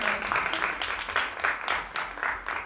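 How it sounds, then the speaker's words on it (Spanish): An audience at a talk about science degrees gives a burst of applause, with close, steady clapping swelling and dipping in waves. "sí, aplaudan"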